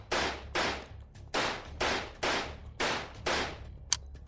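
Seven sharp pistol shots fire in a steady, evenly spaced rhythm, each a loud crack with a short decaying tail.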